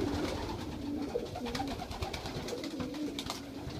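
Several full-blooded young pigeons coo steadily and close by, with soft rolling calls repeating over a continuous background of bird chatter and light rustling.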